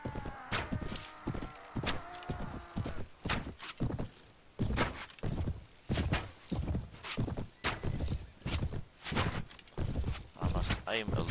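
Horses gallop in the Mount & Blade video game with Prophesy of Pendor mod: loud, rapid, rhythmic hoof thuds that carry on throughout, under a voice talking intermittently.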